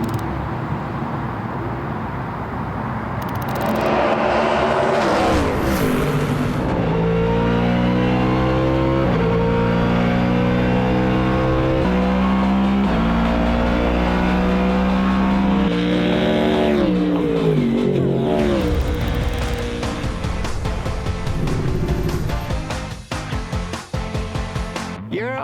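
A Ford Performance Mustang endurance race car engine revs loudly up and down through repeated climbing and falling pitch sweeps, sustained and close, with a brief drop-off near the end.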